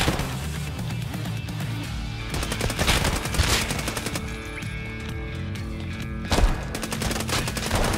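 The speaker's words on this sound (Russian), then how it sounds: "мне этот пулемет не нравится" Machine gun fire in the shooter game Escape from Tarkov, dense sustained bursts of rapid automatic shots, loud and close, continuing with brief pauses across the stretch.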